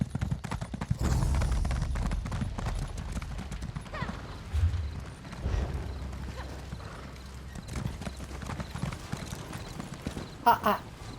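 Horse hooves clip-clopping steadily on the ground in the video game Elder Scrolls Online, with a whinny and some game sounds mixed in as the mount carries its rider along.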